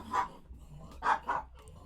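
A dog gives three muffled barks indoors, one early and then a quick pair near the end, moderately close but fairly quiet against a low background hum.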